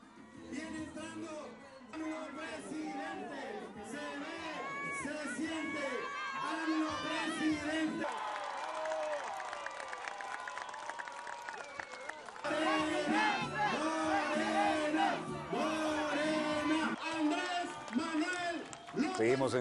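A campaign crowd walks through the streets of Tlapa, Guerrero, Mexico, with overlapping voices, shouts and chanting, and one stretch that drops quieter before the noise swells again near the end.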